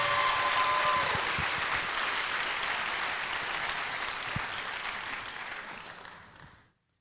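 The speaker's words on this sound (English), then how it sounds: "Please join me in giving another round of applause" Applause from the audience at a senior awards program, dense steady clapping that fills the room and then fades to silence at the end.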